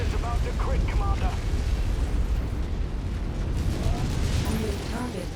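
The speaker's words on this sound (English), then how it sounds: "Explosion imminent. Your target is about to crit, Commander." A mech blowing up in MechWarrior 5: Mercenaries, a loud rumbling roar of explosion and debris that fills the whole moment, with a voice talking over it.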